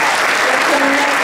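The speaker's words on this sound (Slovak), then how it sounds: "Myslím si, že si zaslúžia velikánsky potlesk." An audience gives dense, steady applause at a 2023 summer-holiday event, with many hands clapping continuously and close by for the whole moment.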